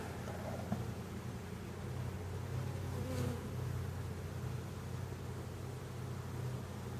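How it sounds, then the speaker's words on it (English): Swarm of honeybees from a newly installed package hive buzzing steadily outdoors, a dense continuous hum with no talking. "See, there's a lot of bees still in it."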